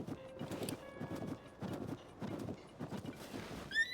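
Horse hooves clip-clopping at a steady trotting rhythm in the video game Zelda: Tears of the Kingdom, moderately quiet, with faint game tones in the background.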